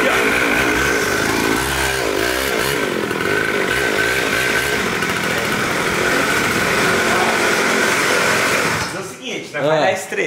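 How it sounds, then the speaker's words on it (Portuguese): A new mini motorbike, a mini R1, runs with a loud, buzzing high-revving small engine that drones steadily for nearly nine seconds, then cuts off amid a brief stir of voices. "Partiu estrear aqui a nossa nova mini moto."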